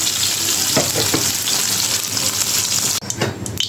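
Shing fish sizzles loudly in a frying pan with a dense, continuous crackle of hot oil, broken by a brief cut near the end before the frying resumes.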